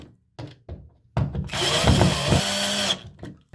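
A power drill drives screws into a towel rack, a short whirring burst of about a second and a half after several sharp knocks and clicks of handling, followed by brief settling noises.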